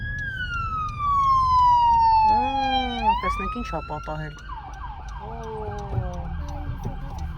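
A police car siren wails loud and close with a sweeping, rising and falling pitch, heard from a vehicle stopped in traffic, while a person talks over it.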